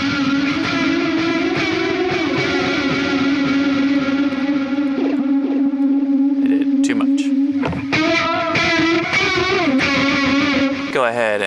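A guitar is played through a Tonocracy amp modeler with a heavy stereo delay effect: distorted, sustained chords and notes with long repeating echo trails that smear into a thick wash, loud and continuous.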